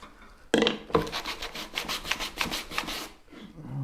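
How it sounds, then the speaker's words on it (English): A sanding block rubs back and forth on a wooden backsaw handle in quick, rhythmic scratchy strokes, about eight passes, close and moderately loud. "Okay, now that I got a sanding block,"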